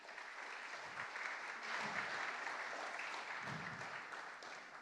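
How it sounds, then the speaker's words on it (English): A concert audience at an evening of classical music claps in a sustained round of applause, a steady crowd patter that swells slightly midway, with no talk over it. "So please do give yourself a round of applause."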